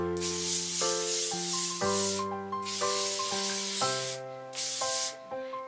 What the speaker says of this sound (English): So we're just going to hairspray it again.